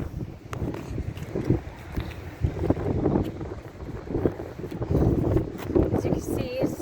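Gusty wind buffets the microphone in a continuous low rumble, rising and falling in strong bursts, with no voices.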